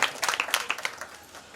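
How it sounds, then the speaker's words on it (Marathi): Audience applause at a Marathi felicitation ceremony honouring journalists, a burst of clapping from a seated crowd that is moderately loud at first and thins out and fades within about a second. "जोरदार टाळ्या व्हाव्या ही माझी नम्र इच्छा आहे"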